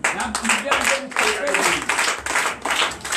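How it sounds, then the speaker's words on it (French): Church congregation at a Sunday service in Comè, Benin, applauding loudly, a dense sustained roll of clapping with voices mixed in throughout. "Je vous demande d'applaudir très fort"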